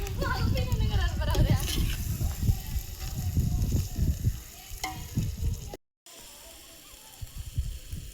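Onions and garlic sizzle and crackle steadily in a hot pan for biryani, with stirring scrapes and a brief dropout partway through.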